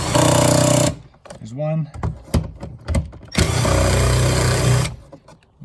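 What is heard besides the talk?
power tool removing Torx 30 bolts, Saab 9-3 door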